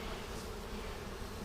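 Honey bees in a package hive produce a dense, continuous buzz that holds steady and close throughout, with no voices over it.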